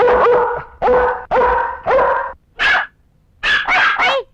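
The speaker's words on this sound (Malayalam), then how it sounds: "പട്ടിയെ പിടിച്ചേ" A dog barks close by in a series of sharp, loud barks, several in quick succession, then a pause and a final rapid burst of three.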